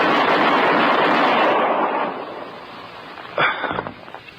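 A revolver fired rapidly in a radio drama, heard as a loud, dense burst of shots that fades out, followed by a single sharper report near the end.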